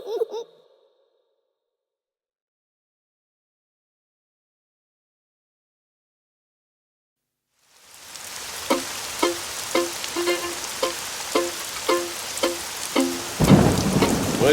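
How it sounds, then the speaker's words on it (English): Heavy rain pours steadily on a surface while thunder rumbles low beneath it, and a burst of louder thunder breaks in near the end after a short faint voice and a long silence. "Would you look at all the rain?"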